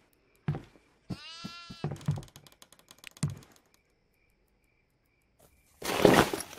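A goat bleats in the horror video game Devour on its farmhouse map: one wavering, quavering cry near the start, set among short thumps and game noises, with a louder rough burst near the end.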